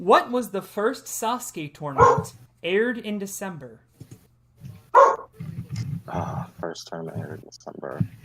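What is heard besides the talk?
dog barking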